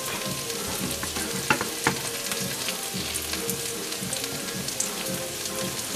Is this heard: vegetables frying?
yes